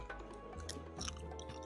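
Quiet, close crunching and chewing of pepper senbei rice crackers, a few crisp bites over about two seconds with no speech.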